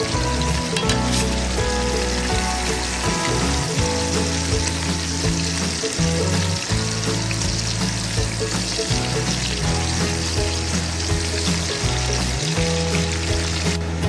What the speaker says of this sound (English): Making crispy bacon.